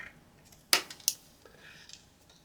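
Scissors trim the edge of a sheet of 12x12 scrapbook paper for a junk journal page, giving two quick crisp snips close by in an otherwise quiet room.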